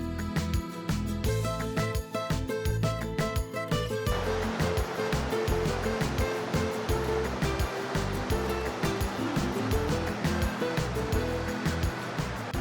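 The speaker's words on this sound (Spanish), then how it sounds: "Escuchen acá, qué ruido de agua. Ahí está el arroyo," The Byron glacial creek runs beside a trail near Byron Glacier in Alaska, a close, steady rush of flowing water that fills the clip. Faint tonal sounds ride over it during the first few seconds.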